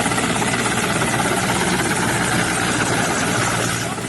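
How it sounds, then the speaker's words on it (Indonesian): A firefighting helicopter works over a hard-to-reach fire zone, its engine and rotor making a steady, loud, dense roar that stays constant throughout with no voices. "Penggunaan helikopter diharapkan bisa membantu menjangkau lokasi kebakaran yang sulit diakses oleh jalur darat"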